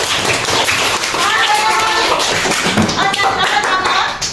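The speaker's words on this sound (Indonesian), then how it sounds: "Tepuk tangan dulu, Mas." Students in an Indonesian fifth-grade classroom clap together during a mathematics lesson on map scale, a steady run of brisk hand claps with voices mixed in.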